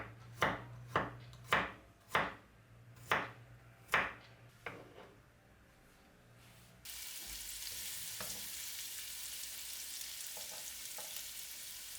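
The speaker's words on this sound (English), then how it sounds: "You don't need to crush them, just slice them thinly." Garlic cloves sliced thinly with a knife for an Italian ragù, heard as a run of about eight sharp, evenly spaced chopping strikes on a board, close and distinct. A steady sizzling hiss from a pan follows.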